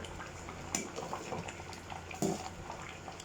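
Rice porridge simmering in a pot with pork intestine, egg and coriander root, a soft steady bubbling and watery burble at low level, with a couple of faint clinks, close by and without speech.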